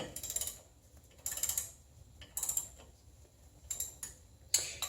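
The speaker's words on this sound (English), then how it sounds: "when you put your socket wrench on there, okay, what you're going to find is that you put pressure and it's going to turn that screw free" Socket wrench ratcheting a brake rotor screw loose, giving five short, quiet bursts of rapid clicking spaced about a second apart, close and alone.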